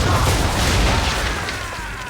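Ship cannons firing a broadside in Assassin's Creed III, a heavy, continuous booming rumble that fills the whole moment and slowly fades, with no voices over it.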